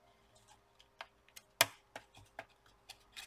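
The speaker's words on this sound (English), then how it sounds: "Just push it. You should hear a clicking sound." A Lenovo T420 laptop keyboard being pushed back into its seat gives a series of small, sharp clicks and taps, one clearly louder snap near the middle, spaced irregularly and close by with no talking.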